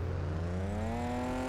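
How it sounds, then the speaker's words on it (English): Cars in Farming Simulator 25 passing on a rural English road, a steady loud engine drone with a slowly rising pitch as one vehicle accelerates, continuous and close, with no talking. "those cars are so loud"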